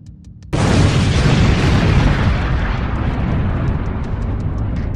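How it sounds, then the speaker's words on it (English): A massive Soviet natural gas pipeline explosion in the Siberian wilderness bursts in suddenly after near silence, a loud broadband boom that rolls on as a sustained roar. "a sudden earth-shattering explosion tore through the Siberian silence"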